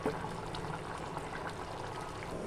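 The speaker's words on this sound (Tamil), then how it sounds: "கொதி வந்ததும் நம்ம நல்லெண்ணெயை மட்டும் ஊற்றி இறக்கிக்கலாம்" Sesame oil poured into a pot of boiling potato curry, a soft steady liquid pour and gentle bubbling heard close and unbroken.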